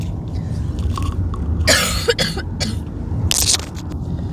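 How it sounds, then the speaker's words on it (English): Several harsh coughs in a short burst, close and loud over a steady background hum. "Sorry, a bit of a coughing fit there."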